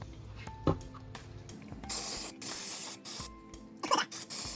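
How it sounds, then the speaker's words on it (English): Brake cleaner sprays onto a front brake caliper from a 1971 C3 Corvette, several sharp hissing aerosol bursts of varying length with short pauses between them, close to the microphone. "Now we'll do some brake cleaner."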